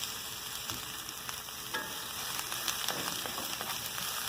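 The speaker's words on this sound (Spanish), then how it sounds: "Vamos a ponerle poquito de aceite de oliva a este sartén y le vamos a aventar unas cebollitas ya picaditas" Chopped onions fry in olive oil in a skillet with a constant crackling sizzle, punctuated by occasional stirring scrapes and taps. The sound is moderately close and there is no talking.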